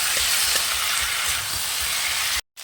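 Spice paste for a fish coriander curry fries in a pan while a spatula stirs it, a loud close sizzle with soft scraping strokes, cut off briefly near the end, with no talking.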